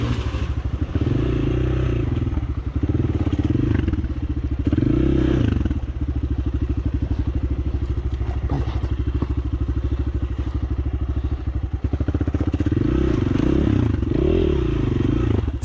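A small-displacement motorcycle crosses a ford over slippery stones, its engine chugging and revving loudly and steadily up close, with intermittent clatter and thuds from the wheels scrabbling over rocks.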